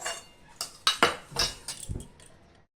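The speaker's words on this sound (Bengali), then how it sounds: "দেখো বন্ধুরা আলু ভাজাটা আমি তুলে নিচ্ছি আর বাকি তেলটা কড়াইয়ের মধ্যে থেকে গিয়েছে।" A metal utensil scrapes and clinks against a wok while fried potatoes are lifted out, several irregular close clanks and taps over about two seconds, alone without talk.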